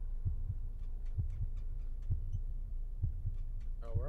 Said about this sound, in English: I have a constant heartbeat going.